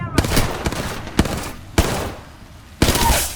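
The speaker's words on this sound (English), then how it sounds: "Shooting at me." Gunfire in a video game shooter: four sharp, loud bursts spaced unevenly, each followed by a short ringing decay, with no talking over them.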